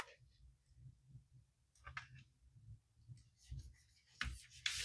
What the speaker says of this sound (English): So we're going to write important